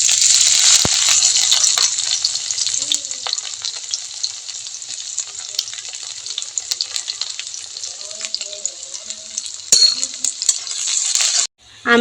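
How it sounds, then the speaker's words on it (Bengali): Chopped garlic sizzling in mustard oil in a wok with a dried red chilli, a loud, steady crackling fry that runs almost unbroken, with a few stirring clinks, then cuts off abruptly near the end. "রসুনটা হালকা ভাজা হয়ে গিয়েছে"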